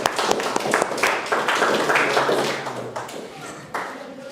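An audience of Form 4 students claps for a motivational speaker, a dense steady patter of applause lasting several seconds and fading slightly toward the end, with some voices mixed in.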